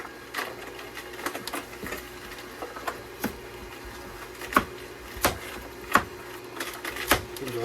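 A Canoly C16 cold press juicer chopping and crushing carrots, irregular knocks and cracks over a low mechanical hum, close and moderately loud, no speech.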